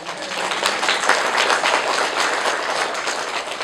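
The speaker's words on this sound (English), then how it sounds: "applaud yourself" An audience applauds in a steady, dense wash of clapping that carries on without a break for several seconds and stays fairly loud throughout.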